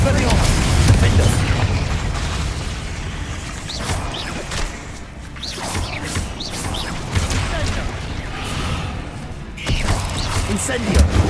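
Spells cast in Hogwarts Legacy on Xbox Series X, a dense run of booms, crackles and mechanical clatter bursting repeatedly with brief lulls, loud and close, with voices calling out over the effects.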